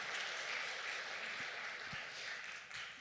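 Church congregation giving a welcoming round of applause for newcomers and returning members during a Sunday service, a steady wash of clapping that carries through the whole stretch with no talking over it.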